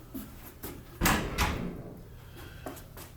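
A wood door being tried in a steel frame: a soft knock, then a louder bump and scrape as it swings against the frame, followed by quieter taps and clicks, close and without speech.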